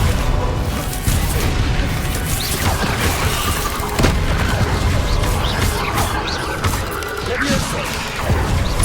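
A burst of fiery spell effects in Hogwarts Legacy, with dense crashing booms and whooshing blasts layered over constant combat noise, loud and busy throughout.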